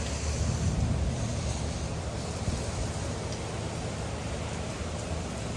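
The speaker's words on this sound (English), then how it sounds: "That's the wind." Constant loud wind roar buffeting the microphone during a severe thunderstorm in Texas, a dense broadband rush with no breaks.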